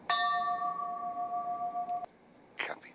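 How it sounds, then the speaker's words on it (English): A single bell rings out with a clear, sustained tone that decays over about two seconds before stopping abruptly, followed by a brief faint noise. "Ringing that bell."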